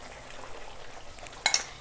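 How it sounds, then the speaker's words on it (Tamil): Tamarind paste for temple-style tamarind rice simmers in a pan with a soft, steady bubbling hiss as roasted spice powder goes in, followed near the end by a couple of sharp metal spoon clinks against the pot. "இப்போ நம்ம வறுத்து வச்ச பொடியை சேர்த்துக்கலாம்."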